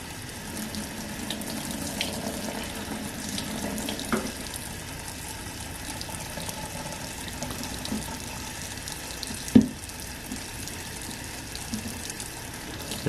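Tap water runs steadily into a sink while a newborn baby's hair is washed, a constant close gush with a brief clunk partway through.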